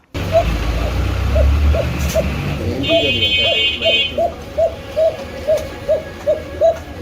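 A pair of domestic pigeons coos in a steady rhythmic series, about a dozen close, repeated calls over background voices and chatter at a pigeon sale.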